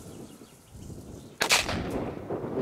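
A Dum Bum Black Edition PB120D firecracker goes off inside a bottle outdoors: after a quiet hiss comes one sharp, loud bang, followed by a lingering rumble and crackle.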